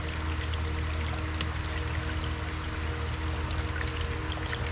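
Washer fluid pours steadily into the reservoir of a 2011 Audi Q7 with a washer fluid leak, a continuous close liquid gush and trickle with no talking.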